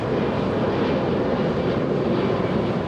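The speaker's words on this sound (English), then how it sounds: "So we have El Al on taxiway Lima" An El Al airliner taxiing at LAX fills the air with a steady, loud jet engine roar that holds even and unbroken throughout, with no voices.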